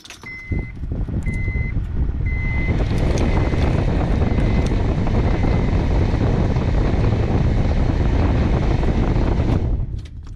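A rough-running blower motor in a 2005 Honda Pilot roars loudly and continuously with a coarse, rumbling whoosh, a few short beeps at the start, before cutting off abruptly near the end.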